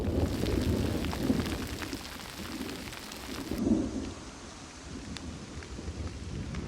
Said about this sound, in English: It's cold and it's been raining for hours.